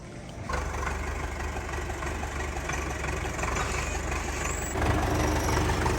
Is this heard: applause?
no